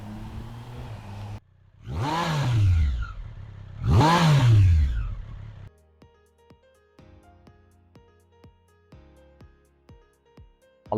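A Triumph Street Triple 765 motorcycle in cosmic yellow sweeps past twice on a road, each pass a loud rising and falling engine whine, followed by quieter ticking and clicking sounds.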